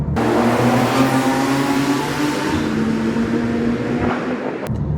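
Porsche 997.2 911 in sport mode with a steady, loud engine drone and low harmonic hum that holds throughout, ending with a brief thump, close and alone with no voices.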